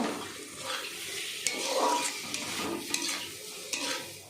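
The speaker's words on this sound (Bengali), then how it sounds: "এবার ডিমগুলো দিয়ে আর একটু কষে নেব।" Eggs stir-fried in an oil-rich spice masala with tomato sauce give a steady sizzle close by, broken by sharp scrapes and taps of a spatula against the pan.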